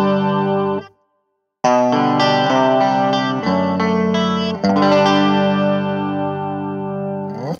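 An electric guitar runs through an inexpensive chorus pedal under $100, strumming sustained shimmering chords with a clear gap near the start, then ringing chords with slight changes, loud and without talk.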